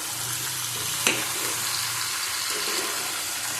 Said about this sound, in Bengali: দেব হলুদ ভালো করে কষিয়ে নেব আবার